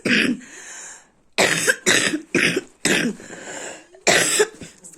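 Several harsh, close coughs come in separate bursts with brief pauses between them, loud and raspy, with no talking.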